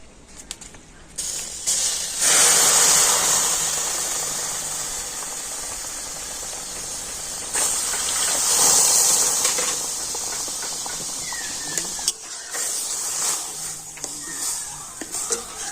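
Cow's milk hits hot fried semolina in a pan, setting off a loud bubbling hiss that swells, eases, then surges again, with small clatters and scrapes and no talk.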